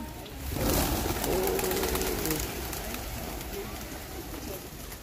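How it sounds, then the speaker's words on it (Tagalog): Soft pigeon coos rise from a noisy outdoor scene at Hampstead Heath, a London park, with a low repeated warbling call amid background chatter and hum. "Ang tawag nila sa kalapati dito ay pigeons."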